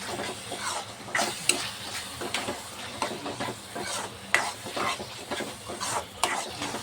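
Soya chunks being sautéed in masala with fresh coriander, close scraping and stirring strokes in a pan over a soft sizzle, each stroke rising and fading in an uneven rhythm, with no talking.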